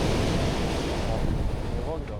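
Ocean waves surge and wash at the foot of a cliff on the Peruvian coast, a steady broadband roar with wind buffeting the microphone throughout.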